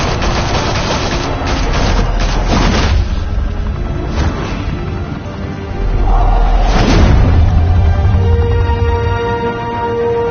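Gunfire and explosions in a Batman video game, heavy booming blasts and rolling bursts of shots layered into a loud continuous barrage, with a big detonation swell midway and no talking.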